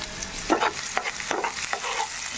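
Two medium onions, chopped, fry in a pan for a fenugreek and potato masala curry, a gentle sizzle under repeated scraping strokes of a spoon stirring them close by.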